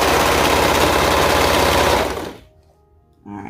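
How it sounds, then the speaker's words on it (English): A sewing machine stitches ruffle shorts in a fast, loud, steady run for about two seconds, then stops abruptly, followed by a brief quiet and a short soft handling sound. "I'm going to sew it"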